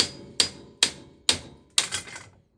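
A metal punch is struck against a Polaris RZR Turbo wheel knuckle, giving four sharp, ringing metallic taps spaced evenly about half a second apart, close up with short decays.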